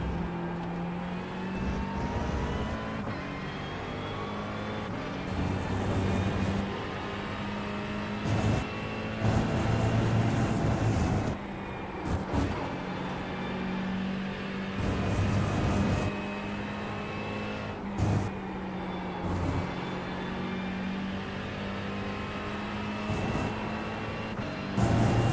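Race car engines drone steadily in the iRacing sim at Sachsenring, a continuous whirring tone with shifting pitch as cars accelerate and lift, with brief gear-change dips and a faint passing car now and then.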